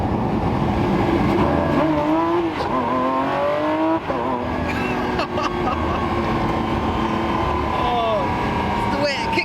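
A loud Lamborghini Aventador SVJ Roadster engine revs hard and climbs through several gear changes, pitch rising and dropping with each shift, with a voice speaking over it.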